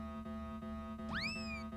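A cat from the Looney Tunes: Back in Action video game gives a single clear rising-and-falling meow over a steady background music hum.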